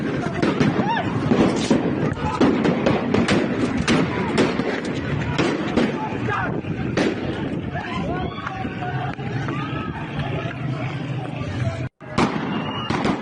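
Rapid bursts of gunfire crack out in dense, irregular volleys as security forces fire on protesters in the Iranian city of Neyriz, heard amid crowd commotion and shouting.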